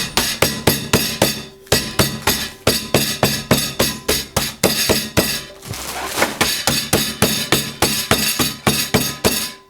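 Biscuits sealed in a bag are pounded into fine powder with a kitchen utensil such as a chapati rolling pin, giving fast, loud, close thuds in steady runs with a few short pauses and no talking.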